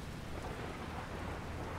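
A violent thunderstorm pours steady heavy rain, heard as a dense, unbroken hiss with a low rumble underneath. It is faint and distant throughout.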